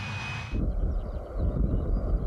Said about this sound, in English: Enter the Eurofighter 2000, the RAF's next high-performance fighter.